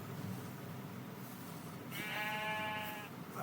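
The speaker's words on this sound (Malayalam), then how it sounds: "ഈ കാട്ടുമ്പയുടെ സൗണ്ട് ഇടുന്ന കേൾക്കുന്നു." A sheep in a shader-modded game bleats once, a clear and fairly close wavering call that stands out against a quiet background hum.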